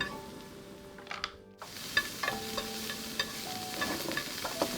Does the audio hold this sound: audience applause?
no